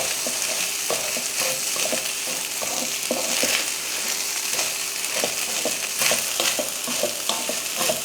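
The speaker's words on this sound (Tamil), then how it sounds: "இப்போ இதில் வெள்ளைச்சோறை சேர்த்துடலாம். சேர்த்துட்டு நல்லா கலந்துருவோம்." White rice stirred into fried onions in a hot pan, close scraping and clacking of a spoon against the pan in an uneven rhythm over a constant sizzle, with no talking.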